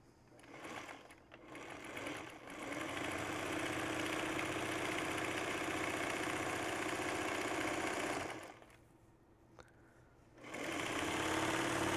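A sewing machine hums loudly and continuously while stitching the last column seam of a quilt, running for several seconds, pausing briefly, then starting again.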